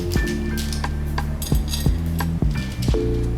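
Whole spices such as star anise dropped into a pan for frying while making homemade garam masala, giving sharp metallic clinks and taps, several distinct hits spread over a few seconds.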